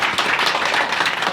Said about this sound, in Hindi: लोगों के लिए बहुत जोरदार ताली हो जाए।